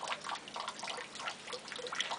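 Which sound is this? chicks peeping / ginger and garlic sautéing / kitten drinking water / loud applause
kitten drinking water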